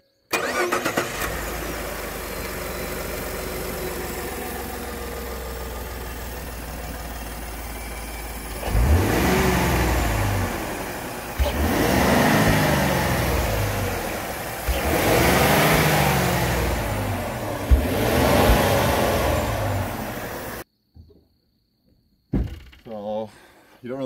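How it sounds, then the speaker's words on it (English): Ford F150 EcoBoost idling in park, then revved in several long surges that rise and fall, heard close with a person talking, before cutting to near silence with brief knocks. "you don't really hear a whole lot of induction noise when it's just in park and you're revving it"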